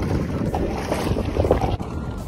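Wind buffets the microphone in steady low roaring gusts while out on open water aboard a Native Titan 13.5 Propel pedal kayak on its first outing, with faint water sounds beneath and no talking.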